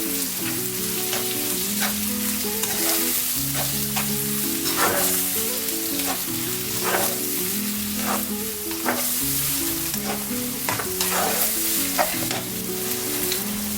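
Quiche mixture stirred in a pan, with a steady sizzle of frying underneath and repeated soft scraping strokes throughout, no voices.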